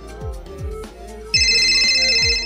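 A phone ringtone sounds alone, a repeating melodic tone with a steady pulsing rhythm that turns brighter and louder partway through, with no talk over it.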